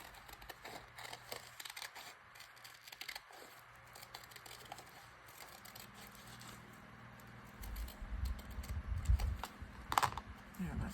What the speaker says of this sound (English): These ripple scissors don't like the thinner paper.